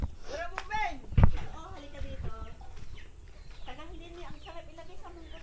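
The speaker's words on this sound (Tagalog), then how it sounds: "Ayan yung ibang manok." Chickens cluck and call near and far in a steady chatter in a rural backyard, with one sharp thump partway through.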